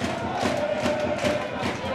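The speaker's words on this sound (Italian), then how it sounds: "Fanno sentire anche i tifosi dell'Akragas" Akragas football supporters roar and chant in a partly reopened stadium just before kickoff of a final against Sancataldese, a dense, continuous crowd swell with no gaps.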